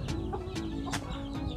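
A few native chickens, just released after vaccination, cluck softly nearby in short, scattered bursts, quiet and without other sounds.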